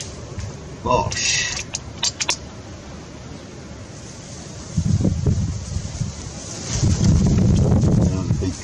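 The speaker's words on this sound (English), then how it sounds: "Another big gust. Just wait for that to go." Wind gusts buffet the microphone with low rumbling bursts, rising strongly twice toward the end, alongside some faint clicks and creaks.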